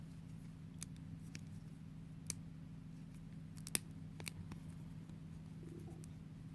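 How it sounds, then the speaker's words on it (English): Plastic cracking in the joint of a 2002 Play Along Toys Spy Kids Thumb Thumb figure: a few faint, sharp clicks scattered over a quiet, steady low hum. "Let's see if there's some of that plastic crack that we all love."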